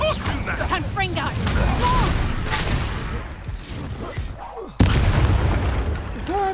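A fiery Confringo spell explodes in Hogwarts Legacy: one sharp, loud blast bursts out after several seconds of game voices and clatter, followed by a rumbling tail.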